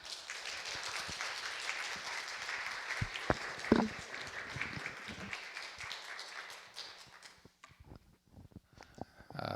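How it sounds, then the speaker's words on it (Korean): An audience claps steadily and warmly for several seconds at a church service, welcoming a pastor, the applause thinning out toward the end into a few scattered claps. "뜨거운 박수로 웰컴의 박수를 해주시기 바랍니다"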